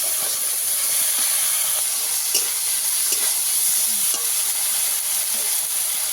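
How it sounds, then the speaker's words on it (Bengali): Ginger paste and broccoli sautéing in a pan: a steady, loud sizzling hiss runs throughout with faint stirring scrapes, and no voices. "আদা দিয়ে ভালো করে কষিয়ে নিতে হবে"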